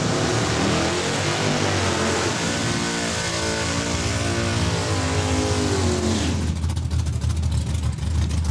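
Drag racing cars roar loudly down the strip at a Saskatchewan drag raceway, a sustained, dense engine blast with rising pitch that cuts off abruptly near the end, followed by a quieter rumble.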